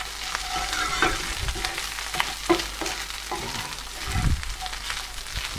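Spices fry in a pan over medium heat for tacos, giving a close, crackling sizzle with stirring scrapes and a few louder knocks of a utensil against the pan.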